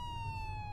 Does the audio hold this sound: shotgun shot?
no